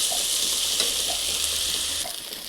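Garlic paste fries in a little oil in a pan, a dense continuous sizzle with faint stirring clicks that eases slightly toward the end, close and without talk.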